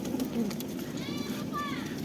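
Soft pigeon coos sound faintly over a steady background murmur, with a couple of short calls near the end.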